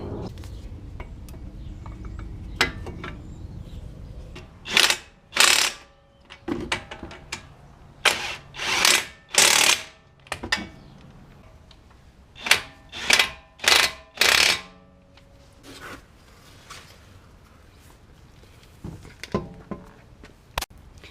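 A nut being tightened to hold the brake disc on a 2007 Toyota Camry hybrid during wheel bearing work, heard as sharp metallic ratcheting bursts in quick clusters separated by quiet pauses, close to the microphone.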